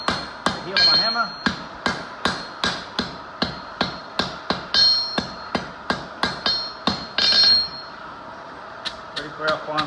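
A blacksmith strikes with a hammer during fire welding, a long run of sharp, evenly spaced metallic blows ringing close and loud, with brief pauses between some strikes.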